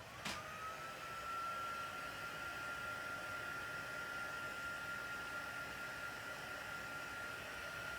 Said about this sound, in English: I'm going to just quickly heat emboss this.